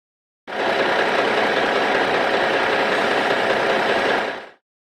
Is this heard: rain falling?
no